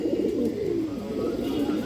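Chuithal Musoldom pigeons, a big-sized pair, coo in low steady rolling murmurs throughout, close and continuous with no talking.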